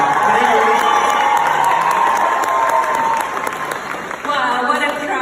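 Large rally crowd applauding and cheering continuously at close, loud level, dense clapping with scattered whoops and shouts throughout.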